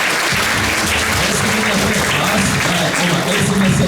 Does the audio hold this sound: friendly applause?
yes